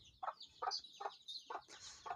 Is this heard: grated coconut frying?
no